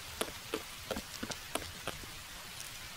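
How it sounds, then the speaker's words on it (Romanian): Rain falls outside in Roblox Brookhaven, a faint scatter of soft, irregular droplet taps against a quiet background, with a sharp click right at the end. "plouă afară și mai ține ploaia, să știi, până dimineață"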